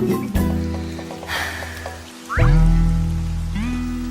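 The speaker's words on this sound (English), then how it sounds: "Wow, look at that rain." Rain in a cartoon falls as a steady wash of patter, with a few drips and a sharp cartoon effect breaking in midway before a louder, fuller tone takes over.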